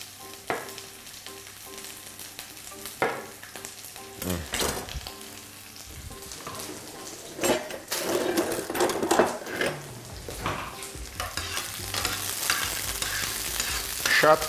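Pepper pieces frying in olive oil in a pan, soft sizzling with intermittent stirring clatters and scrapes that grow busier and louder toward the end.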